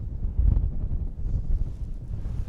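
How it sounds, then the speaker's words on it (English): A stiff northwesterly wind buffets a wild camp on Mynydd Mawr mountain, blowing as a low, rumbling roar against the microphone with gusts swelling and easing throughout. "It's a bit of a stiff breeze, but that's about it now."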